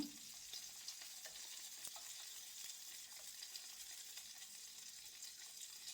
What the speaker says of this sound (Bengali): এটাকে আমি ঘুরিয়ে ঘুরিয়ে এপাশ ওপাশ করে তারপর সুন্দর করে ভেজে নেব